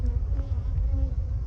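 Honey bees hum and buzz steadily inside an opened hive full of capped honey during an inspection, a close, continuous drone with no talk over it.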